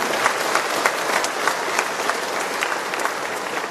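An audience at a Tamil Nadu sports event applauds two sportswomen, a dense, steady wash of clapping from many hands throughout, fairly loud and close with scattered sharper claps standing out.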